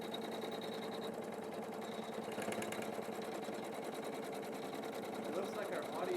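An embroidery machine stitches a crosshatch quilting pattern, its needle pounding in a fast, steady rhythm close by and loud, continuous throughout with slight shifts in pitch.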